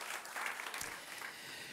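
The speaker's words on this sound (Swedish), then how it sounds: "Det kan vi ge dem en varm applåd tycker jag, eller hur?" Warm applause from an audience at a Swedish urban planning talk, fairly faint and brief, a soft patter of clapping with no voices over it.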